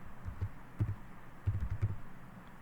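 Faint, quiet clicks of a computer keyboard as someone types C++ code, coming in small irregular bursts of keystrokes.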